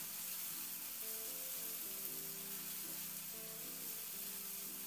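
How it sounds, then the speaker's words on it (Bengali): Ginger-garlic paste and onions fry in a pan for bhindi sabzi, giving a steady, soft sizzle with faint tones running through it. No one speaks. "তো মিনিট 2 মতো আদা রসুনটাকে একটু ভেজে নিয়েছি পেঁয়াজের সঙ্গে"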